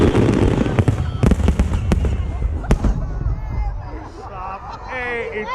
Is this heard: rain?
no